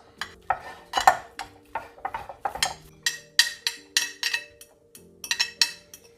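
White cheese being mashed with olive oil for haydari, a utensil repeatedly knocking and scraping against a dish in quick, irregular clinks, close and fairly crisp with no talking.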